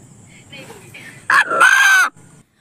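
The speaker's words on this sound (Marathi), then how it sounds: "अण्णा या नावाने हाक मारणारा चक्क असा एक कोंबडा आहे, यावर तुमचा नक्कीच विश्वास बसणार नाही." A rooster crows loudly and close by, one sustained call lasting under a second, with faint background murmur before it.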